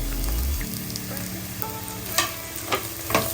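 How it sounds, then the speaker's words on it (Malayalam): Green chillies and curry leaves dropped into well-sautéed onions for a Kerala-style chicken curry, crackling fry near the mic with a low hum at first and a few sharp stirring scrapes toward the end. "അപ്പോൾ ഞാൻ ഇതിലേക്ക് പച്ചമുളകും കറിവേപ്പിലൊക്കെ ഇട്ട് കൊടുക്കുന്നു കേട്ടോ."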